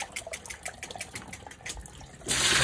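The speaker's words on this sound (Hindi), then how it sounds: "पता एकदम नहीं जा रहा था पानी, अभी अच्छे से जा रहा है" Water drains through a freshly cleared household drain, a close, irregular gurgling and trickling that swells into a steady rushing flow near the end.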